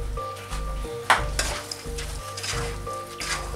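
Rice with added celery and tomato being stirred in a pot over low heat, giving a steady soft sizzle with rhythmic scraping and occasional clinks of the spoon against the pot, no talk.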